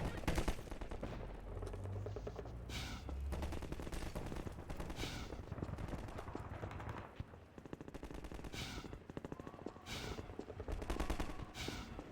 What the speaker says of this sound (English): Okay, who's shooting?